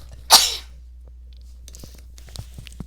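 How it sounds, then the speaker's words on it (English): A single sharp, loud sneeze, followed by quiet shuffling and a low hum. "I'm going to sneeze"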